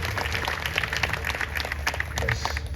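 A kirtan audience claps loudly for the children's bhajan group, a dense patter of many hands over a low hum, steady and continuous.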